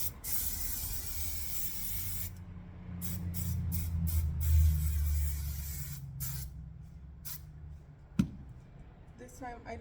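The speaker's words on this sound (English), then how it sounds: "And then final layer of hairspray." Hairspray hisses from an aerosol can onto styled hair in a sustained close spray lasting several seconds, followed by a few short bursts, with faint handling noises.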